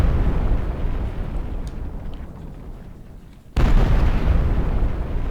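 Shotgun firing many pellets in an Unreal Engine 4 weapon test: a loud, sustained roar of blasts that fades, then a sudden sharp burst of heavy gunfire cuts back in close and dense.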